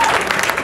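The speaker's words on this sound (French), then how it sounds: "Can we applaud?" Church congregation applauding at a French-language service led by Pastor Joás Mbunga, a steady wash of many hands clapping at close range, dense and continuous throughout.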